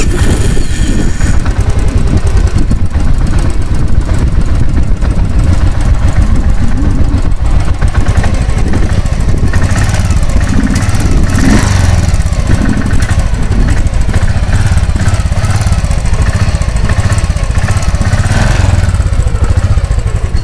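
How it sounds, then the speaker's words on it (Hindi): A Royal Enfield Thunderbird 500 motorcycle engine idles loudly and steadily close by, a thumping low rumble that rises and falls slightly throughout. "इंजन का आवाज़ सुनना"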